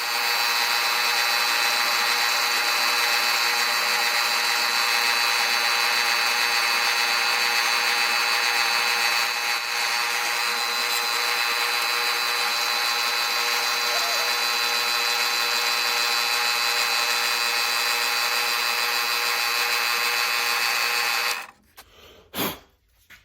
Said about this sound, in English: I'm gonna drill these pinholes